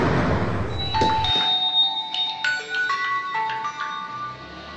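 A phone ringtone playing a sequence of bright electronic chime notes, fairly loud and alone, following a short burst of broadband noise at the start.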